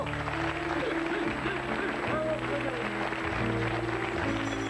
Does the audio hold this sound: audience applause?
yes